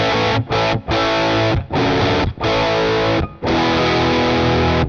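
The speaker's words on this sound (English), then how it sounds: "with humbuckers it's acting far more like a sort of slightly more modern sounding overdrive" Humbucker-equipped electric guitar driven through an EHX Germanium Overdrive pedal, loud crunchy chords ringing in several strummed bursts with short gaps between them.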